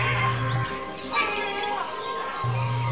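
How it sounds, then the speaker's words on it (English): Seagulls call in scattered chirps and cries around a ferry harbor at Oregon Inlet, a fishing town, with a low droning hum beneath them and no voices. "We catch the ferry and feed the seagulls."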